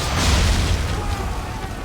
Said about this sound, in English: Just gotta go for the swivel gun.